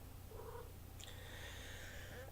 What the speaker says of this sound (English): Full of the purr.